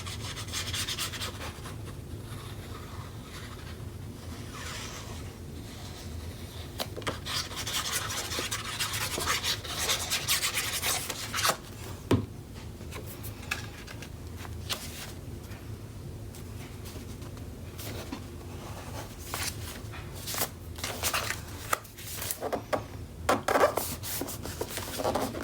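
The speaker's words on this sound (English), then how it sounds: "I'm just taking off a little bit of excess glue squeezed out." A tool rubs and scrapes along paper craft work to clear excess squeezed-out glue, steady close rubbing strokes with occasional sharper scratches, quiet and unaccompanied by speech.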